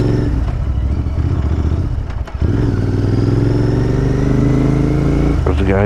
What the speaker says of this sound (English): you can hear the engine sound now a bit more clearly.